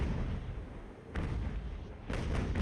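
Ship cannons firing in Ultimate Admiral Age of Sail, the naval battle pitting sailing ships against a massive Spanish galleon fortress: two deep booms about a second apart rumble over a constant low roar, with no talk.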